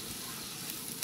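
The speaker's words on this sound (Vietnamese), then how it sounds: "mình nhúng bột vô mình chiên" Battered bitter melon fries in a pan of hot oil, giving a steady, dense sizzle that stays close and even throughout, with no talk.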